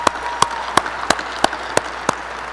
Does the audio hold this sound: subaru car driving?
no